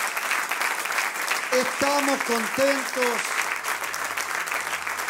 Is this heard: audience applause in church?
yes